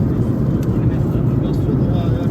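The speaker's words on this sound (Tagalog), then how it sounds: "dito na kami sa pangalawang aeroplano. Connecting flight kami." Airplane cabin noise aboard a connecting flight to China: a steady, dense low roar of the jet fills the space without any break.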